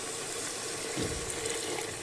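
Strained tamarind water poured into a pot of tur dal and pumpkin sambar, a steady close pouring and splashing rush that stays even from start to end.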